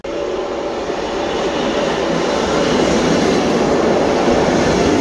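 Intercity train at a station in Belgium, a loud, steady rolling rumble and rushing roar that builds slightly and holds throughout, close by with no speech.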